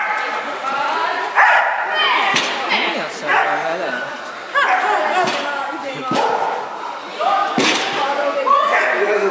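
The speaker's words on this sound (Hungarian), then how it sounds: "Aztán még bele is ugat a dolgokba." A dog barks repeatedly during an A3 agility run at the Kraft Kupa event. The barks come in bursts mixed with thuds and a loud voice commentating over them, all fairly close and lively.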